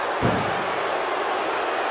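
A wrestler crashes onto the ring mat from a powerbomb during a WWE SummerSlam 2025 ambulance match, one sharp heavy thud over a loud, continuous arena crowd roar, with a second fainter impact soon after.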